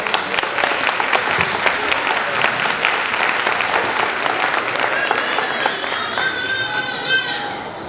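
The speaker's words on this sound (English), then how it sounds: "Please give another round of applause to our students for the month's winner." Students at a school board meeting receive a round of applause, a dense, steady clapping from a crowd that carries through the whole stretch at even strength, with a few voices mixed in near the end.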